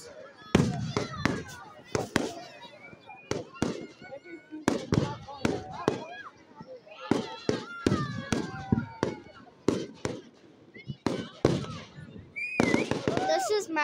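Fireworks burst in a rapid, irregular series of sharp bangs and crackles, some distant and some closer, with voices talking between the explosions.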